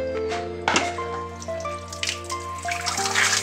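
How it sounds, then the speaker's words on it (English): Water runs and trickles steadily, draining in a kitchen sink after chicken is cleaned, with a low hum and some tonal background noise throughout. "just drain the excessive water out."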